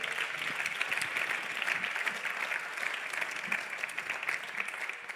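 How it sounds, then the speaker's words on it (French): Audience applause for the speakers at the close of a French panel session on financing, a steady, dense clapping from a full room that holds at an even level throughout without pause. "On peut les applaudir"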